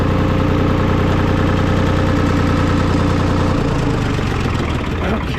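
A 1960s diesel tractor engine, left sitting for 20 years and just brought back to life, idles with a loud, close, rough, even chug that shifts slightly in tone near the end.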